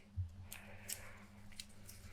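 Scissors snip and crunch at thick cardboard packaging on a Warhammer 40k Horus Heresy Boarding Actions box, giving a few quiet, close, irregular cuts against a low background hum.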